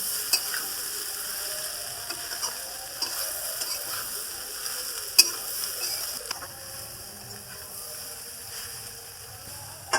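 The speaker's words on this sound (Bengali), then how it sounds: "আলু আর সয়াবিন মশলার মধ্যে দিয়ে নামতে থাকলাম" Potatoes and soya chunks fry in a spice paste while being stirred, giving a steady close sizzle broken by scraping and clinking of a utensil against the pan, with no voices.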